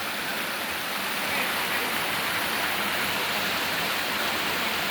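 A loud, constant roar of a forest waterfall fills the air, steady and unbroken throughout with no other sounds.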